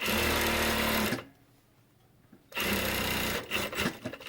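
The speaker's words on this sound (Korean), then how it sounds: "스판이 많이 되기 때문에 박음질 하실 때 조금 당겨서 박아야 됩니다" A sewing machine runs in two loud bursts of stitching with a quiet pause between, sewing stretchy Adidas tracksuit fabric while the seam is taken in and shortened.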